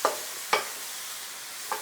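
Squid frying in butter and oyster sauce sizzles quietly in a pan while three sharp stirring scrapes land about half a second and a second apart.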